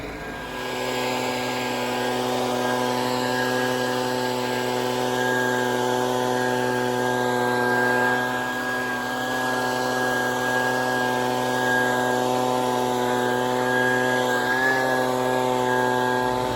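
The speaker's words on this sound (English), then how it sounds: "go up on the roof with my leaf blower, and I'm gonna blow the large debris off, the branches" A leaf blower runs on a roof blowing off branches and large debris, giving a loud, steady, close engine drone with a strong humming pitch that holds throughout with only slight wavering, no talking.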